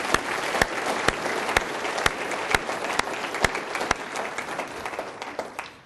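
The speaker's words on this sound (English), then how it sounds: "Let's give them a round of applause." Applause for the police department at a State of the City address fills a large hall: a steady wash of many hands clapping at moderate distance, with a few sharp individual claps standing out, tapering off toward the end.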